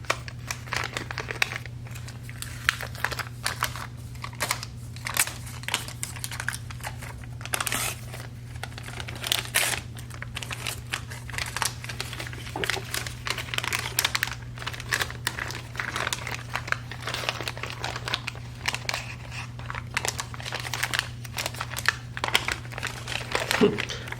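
Paper lining is peeled off a loaf of handmade soap made with sodium lactate, giving a long run of close crinkling, crackling and tearing sounds over a steady low hum.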